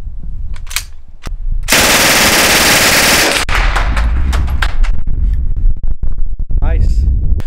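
A PPSh submachine gun fitted with a stick magazine fires one loud, continuous burst lasting nearly two seconds, followed by echoing reports and further shots, with a voice present.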